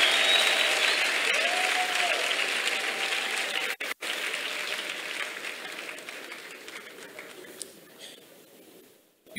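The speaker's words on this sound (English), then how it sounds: "Can we clap for God?" A church congregation claps loudly in sustained applause, with brief cheering tones early on, then a quick break before the clapping gradually tapers toward silence.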